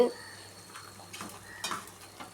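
Crushed garlic hits small onions already frying in oil, giving a soft, steady sizzle with a few spoon-and-pan stirring clinks, quiet and close.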